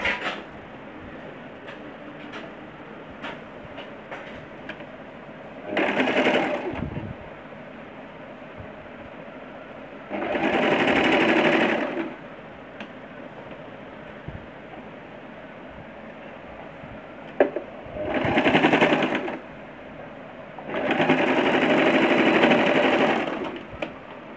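A sewing machine stitches a hanky-style skirt with elastic in four separate runs of steady whirring. Quiet pauses fall between the runs, while the fabric is repositioned.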